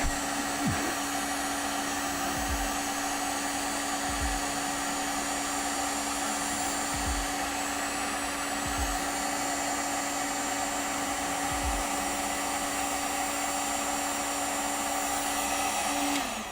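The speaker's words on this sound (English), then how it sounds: "I'm using a heat gun" A heat gun blows continuously during a puppet build in a shop, a steady loud whooshing hiss with a constant whine, running unbroken throughout with faint low knocks underneath.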